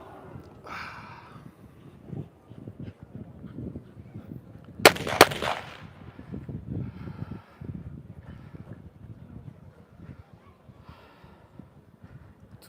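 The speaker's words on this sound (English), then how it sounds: "Two gunshots." Two sharp gunshots crack in quick succession, loud and close, amid muffled background noise and scattered voices, at a Mondioring dog sport championship.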